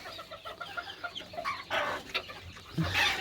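Hens cluck and chatter while pecking at an onion salad, with short repeated calls close by and a slightly louder burst toward the end. No voices are heard.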